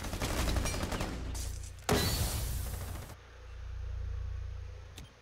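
Rapid automatic gunfire in Rainbow Six Siege, loud dense bursts of shots in a couple of volleys, followed by a quieter mechanical hum and one sharp final crack.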